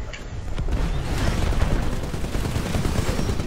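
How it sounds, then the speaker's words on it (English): Silenced weapon fire in the Titanfall video game comes as a dense, continuous stream of muffled rapid shots that stays loud and steady throughout. "I gotta try out my new gun, which I put my silencer on."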